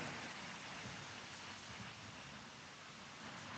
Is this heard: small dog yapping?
no